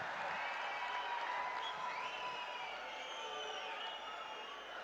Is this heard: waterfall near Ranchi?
no